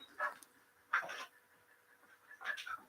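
A border collie gives three short, high whimpering cries, close by and fairly quiet, spaced apart by brief pauses.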